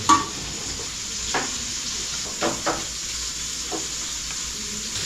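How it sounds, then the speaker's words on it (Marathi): Halwa fish (pomfret) fries in a pan with a steady, moderately loud sizzle, punctuated by several short spatula knocks and stirring scrapes. "इकडे आपला हलवा एकदम फ्राय झाला व्यवस्थित आणि एकदम मस्त"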